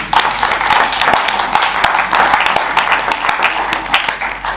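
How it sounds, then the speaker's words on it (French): Congregation applauding during a church service, a dense wash of hand claps with crisp individual slaps rising out of it, loud and steady throughout with a faint murmur of voices underneath. "on peut applaudir"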